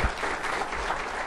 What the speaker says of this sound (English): Oh, they're clapping for the introduction.